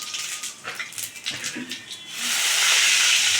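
Fenugreek and fennel seeds hit hot oil for a chicken gravy, giving a bright crackling hiss that starts uneven and swells into a loud, steady sizzle.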